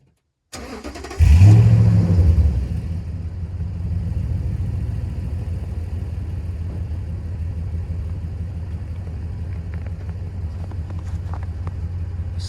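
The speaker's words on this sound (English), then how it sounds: "Stock exhaust cold start right there." A 2008 Toyota Tundra 5.7 liter V8 with stock exhaust and muffler cold starts: a quick crank, a loud rev flare, then a steady deep idle rumble that settles lower and holds close by.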